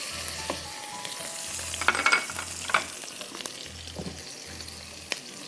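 Ginger and garlic, a tablespoon each, hit a pan of oil with two tablespoons of chili oil. The result is a soft, steady sizzle with light crackles and a few brief stirring clatters, heard close and alone.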